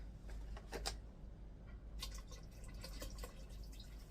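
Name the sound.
water being added to soup pot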